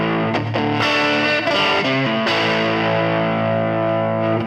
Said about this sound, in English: what you're hearing right now, is just the basic amp.